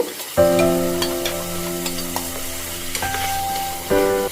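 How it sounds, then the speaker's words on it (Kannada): Beans frying with onions and turmeric in a hot pan, a close, steady sizzle with no talk, with a sharp burst at the start and another near the end as the food is stirred. "ಈಗ ಇದರಲ್ಲಿ ನೀಟಾಗಿ ತೊಳೆದಿಟ್ಟಿರುವಂಥ ಈ ಒಂದು ಬೀಜನ ಹಾಕ್ಕೊಂಡು ಒಂದು ಸರಿ ಫ್ರೈ ಮಾಡ್ಕೊಳ್ತೀನಿ"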